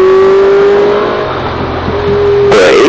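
A Ferrari 458 Italia's engine pulls hard on the Red Bull Ring race track, a loud close steady roar that rises in pitch before a sharp burst of noise near the end.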